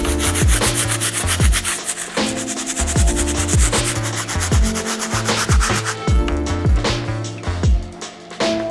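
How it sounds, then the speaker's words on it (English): A stiff bristle brush scrubs the sole of an Air Jordan 3 Mocha sneaker with fast, close, rhythmic back-and-forth strokes that give a harsh rasping scrape, with no talking. "One of the nice things about the stiff bristle brush is you can scrub a sole really hard"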